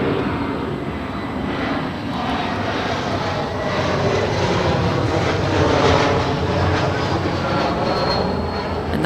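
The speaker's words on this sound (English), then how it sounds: "that is Delta Connection SkyWest 4081 coming in from Oakland, California on an E175LR" A Delta Connection SkyWest Embraer E175LR jet arriving from Oakland lands at LAX with a loud, steady jet roar that swells to a peak midway and then eases slightly, with no voices.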